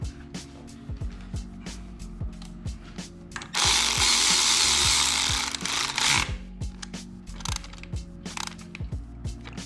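Ratcheting and clicking mechanical sounds while a hybrid racing heater plug is threaded into a K24 engine during a budget build, with repeated sharp ticks and a loud burst of broadband hiss in the middle, no talking.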